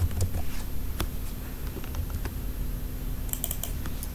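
Rapid, steady typing on a computer keyboard while coding a React Router project, dense clicking keystrokes running continuously with a few sharper taps near the end and no talking.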